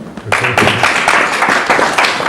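Audience applause at a comedy special, a dense wash of clapping that swells in after a brief pause and stays steady and fairly loud to the end.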